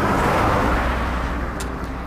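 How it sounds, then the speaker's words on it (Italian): Cars rush past on an asphalt stretch of the Portuguese Camino to Santiago in Galicia, a steady, fairly loud roadway roar that swells and fades slightly without any voices. "le macchine rompono sempre le palle"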